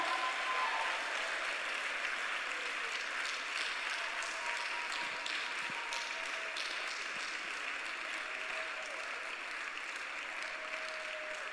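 A church congregation applauds in praise during a worship service, a steady, dense wash of clapping that carries on without a break from start to finish, with no one speaking over it.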